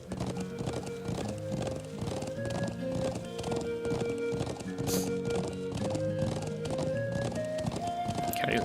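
Galloping horse hooves clip-clop in a steady, repeating rhythm, with an occasional whinny, from the video game Trails of Cold Steel; looping background music plays beneath the hoofbeats.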